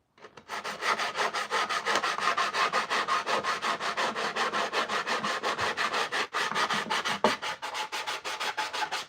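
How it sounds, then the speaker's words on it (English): 220 grit sandpaper is rubbed lightly over a wooden edge in quick, even back-and-forth strokes, a close continuous scratchy rhythm with no speech. "With some 220 grit, I'm just gonna do like a little light surface touch up."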